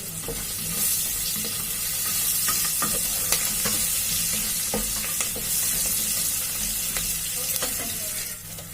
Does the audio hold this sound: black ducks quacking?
no